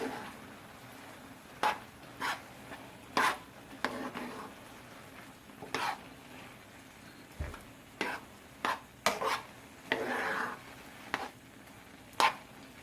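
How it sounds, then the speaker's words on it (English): Shrimp rice creole being stirred in a pot, a series of irregular soft scrapes and knocks of a spoon against the pot, moderately close and fairly quiet, with pauses between strokes. "Now I will stir this around so that you can see it all together"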